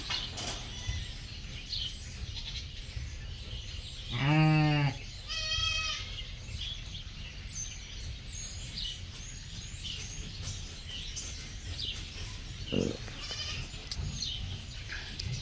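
A sheep held for a blood draw bleats twice loudly in quick succession, then once more briefly later, over a steady background hum.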